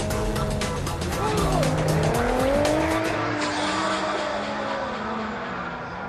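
A car drifts in a UK drift challenge, tires squealing loudly and continuously as the engine roars and the pitch rises and falls through the slide.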